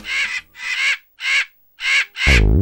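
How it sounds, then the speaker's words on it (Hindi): Crows in a Hindi children's cartoon give five loud, evenly spaced caws, each harsh call separated by a brief silence, with a low rising tone sounding under the last caw. "ओ वाकई ये तो कौवे हैं।"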